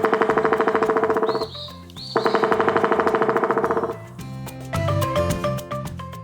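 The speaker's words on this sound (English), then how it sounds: "Woodpeckers peck trees with their strong beaks to find bugs." Woodpecker pecking on a tree, heard as two long runs of rapid, evenly spaced taps, loud and close, followed by a brief stretch of other sounds.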